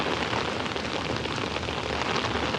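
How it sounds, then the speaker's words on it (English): Heavy rain pours down in a dense, steady hiss of drops hitting surfaces in Malaysia, loud and continuous with no voices. "it's raining, and it's raining pretty hard"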